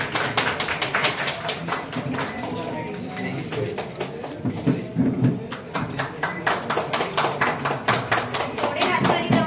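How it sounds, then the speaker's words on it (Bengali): An audience at an event claps in a round of applause, many separate hand claps building into a rhythmic, fairly close patter, with a voice speaking over the start. "Can we have a big round of applause for them?"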